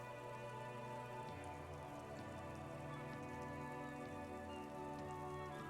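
Steady rain falls throughout a scene in the video game Disco Elysium, a continuous hiss of drops layered over low droning music and ambient tones, with no speech.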